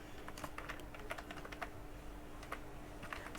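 Keystrokes on a computer keyboard tap out a sentence in a steady, close burst of quick clicks, with no voices.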